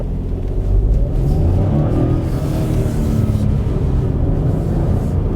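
A Hyundai Bayon accelerates hard on the road, its engine rumble building strongly and holding loud and steady throughout, with no voices.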